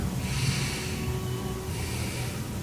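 A deep, steady inhale taken during a vocal breathing exercise, a continuous airy rush of breath that holds close and fairly loud for a couple of seconds with no speech.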